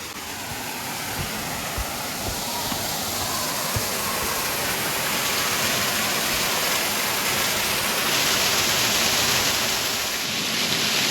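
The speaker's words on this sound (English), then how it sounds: "And now this is the upper falls of Waterfalls." Upper falls of Greeter Falls in Savage Gulf, Tennessee, pouring as a broad, steady roar of rushing water that stays loud and constant throughout, with no voices.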